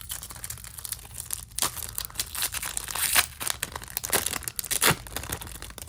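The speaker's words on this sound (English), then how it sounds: "Getting better opening up these Japanese packs." Foil packs of Japanese Pokemon trading cards are ripped open by hand, with repeated sharp tearing bursts and crinkling wrapper sounds close to the mic, several distinct rips across a few seconds.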